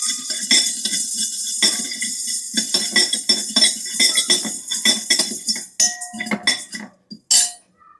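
Cumin, pepper and other whole spices dry-roast in an oil-free pan for sambar, giving a rapid run of close, bright clinks and scrapes as a spoon stirs against the metal, thinning out toward the end.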